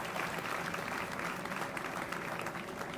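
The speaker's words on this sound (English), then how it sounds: "how about a round of applause for Dennis because of all the work that he does" A dense, steady wash of audience applause at a Green Bay Packers community gathering, many hands clapping together at full volume for the whole stretch without a break.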